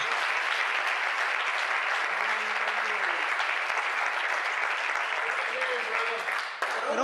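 A church congregation applauds loudly for the Lord Jesus during a sermon, a dense, sustained wash of clapping that holds steady for several seconds, with a few faint voices calling out beneath it.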